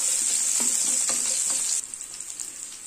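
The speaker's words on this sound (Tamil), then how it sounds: "இது எல்லாத்தையும் சேர்த்து வதக்கிக்கணும்." Shallots, ginger and garlic sauté in a hot pan for Kerala-style chickpea curry: a loud, steady close sizzle with a few spoon scrapes and stirring knocks, easing noticeably after the first couple of seconds.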